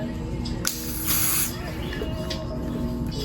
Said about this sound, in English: Take this and spray it.